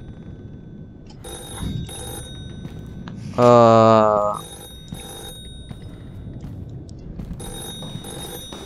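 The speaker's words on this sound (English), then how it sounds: "telephone is ringing." A telephone in a horror game rings once in a loud burst of bright, rapid bell trills, sharp against faint ambience, with a brief murmur before it.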